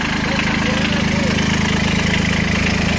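A three-cylinder engine idles close up, a loud steady low chugging drone with an even pulsing beat throughout and no break.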